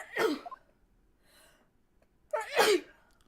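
Two sharp sneezes from a person, one near the start and a stronger one near the end, with a quiet gap between them and no talking.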